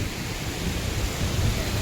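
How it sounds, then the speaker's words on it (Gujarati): Dense, steady hiss of heavy rain pouring down during a storm in Odisha, a constant wash of noise with a low rumble underneath. "અને ફૂલ વરસાદ ચાલુ થઈ ગયો છે."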